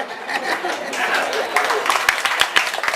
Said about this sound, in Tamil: கைதட்டு தானே கேட்டோம்.